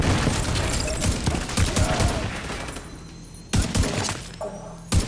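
Rapid gunfire from a firefight with hostiles in The Division 2, set in New York City, with dense overlapping shots, shattering debris and cracks, loud and close, ending in a few sharp isolated shots.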